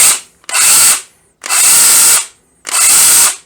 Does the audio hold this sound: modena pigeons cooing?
no